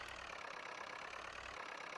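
A tractor engine idles in the farming video game Farming Simulator 19, giving a steady, even drone that holds at a constant level throughout with no speech.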